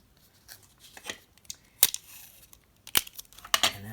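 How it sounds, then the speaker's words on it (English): Paper road pieces are taped down with sharp pulls and tears of tape and crinkling paper in irregular bursts, close and moderately loud, with no voices. "So I'm gonna just tape these down like this."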